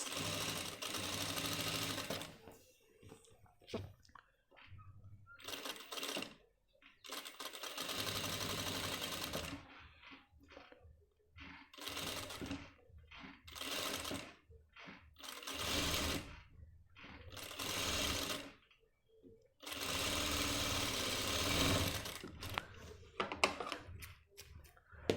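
A sewing machine stitches the curved edge of a men's pant pocket in repeated bursts of steady, rapid whirring and ticking, close by and fairly loud, separated by brief pauses.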